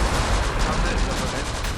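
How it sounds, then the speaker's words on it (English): Mortars dropping in the war strategy game Close Combat The Bloody First, a dense, continuous rumble of overlapping explosive bursts and gunfire filling the whole moment at steady loudness. "let's go ahead and start dropping mortars right here."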